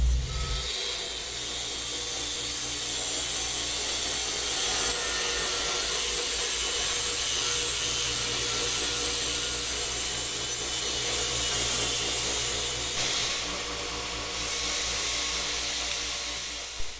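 Steady, loud abrasive grinding or wire-brushing on a rusty metal floor structure of a Highboy build, continuous for most of the stretch with a slight change in texture near the end; no talking.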